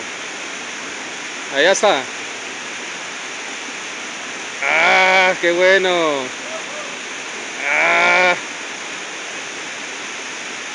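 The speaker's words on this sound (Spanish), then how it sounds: "Mire dónde viene el agua. ¡Ah! ¡Qué belleza!" A waterfall at Bello, Antioquia, Colombia sends out a steady broadband rush of falling water throughout, while people speak excitedly over it in short bursts.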